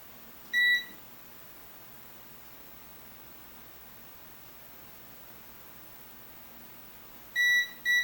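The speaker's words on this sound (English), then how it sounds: "The beep indicates a reliable connection." A multimeter beeps short and clean on a continuity test of a Hot Tools HT710 flat iron's ribbon cable: one beep, then a quiet stretch with soft hiss, then two more quick beeps.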